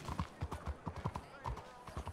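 Horse hooves clip-clopping in a steady rhythm of close, distinct hits in a workshop setting, with people talking over them.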